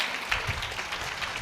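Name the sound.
congregation clapping hands to thank God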